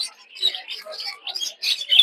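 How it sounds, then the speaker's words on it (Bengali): Myna chicks at a busy bird market give rapid, high, scratchy chirps in short bursts, with a few brief pauses and voices murmuring in the background. "এগুলো কি ময়নার বাচ্চা এগুলো কত করে"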